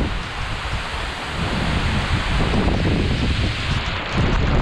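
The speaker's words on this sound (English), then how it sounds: "We actually ended up getting stuck in the middle of a thunderstorm." Thunderstorm outdoors with heavy wind buffeting the microphone and steady rain, a continuous loud roar with low rumbling that swells slightly toward the end, no voices.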